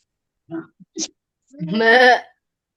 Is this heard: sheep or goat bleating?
yes